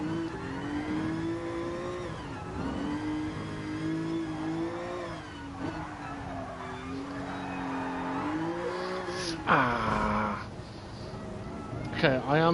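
A car in the GT Sport racing game revs hard through a drift, its engine note rising and falling steadily in the foreground, with a louder burst of tire noise near the end.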